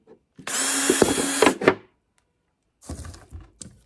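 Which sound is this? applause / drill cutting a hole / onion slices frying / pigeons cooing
drill cutting a hole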